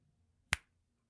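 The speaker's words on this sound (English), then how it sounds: "You're going to snap your fingers." A single crisp finger snap, close and isolated, over faint background hum.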